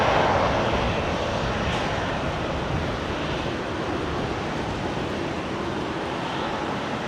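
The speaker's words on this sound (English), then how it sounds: "Singapore, the 359er should just be about to begin its taxi" A Singapore Airlines A350-900 jet at Brisbane International Airport gives off a broad, steady engine roar that holds constant from start to finish, heard from a distance.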